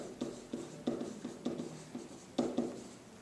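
Pen or marker writing polynomial coefficients by hand on a surface during a math lesson: a series of short scratchy strokes and taps in an uneven rhythm, close and fairly quiet, with no talking.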